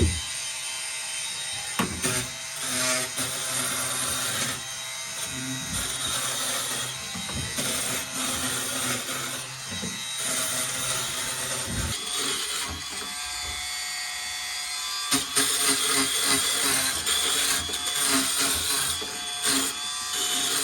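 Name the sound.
multi-speed oscillating saw removing foam from boat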